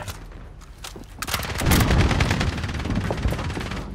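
Loud, close bursts of automatic gunfire in Call of Duty: Resurgence. A few shots come first, then a dense sustained rattle of rapid fire with heavy low booms runs through the rest.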